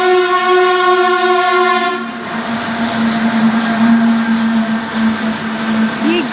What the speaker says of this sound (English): ये goods train है, देखिए।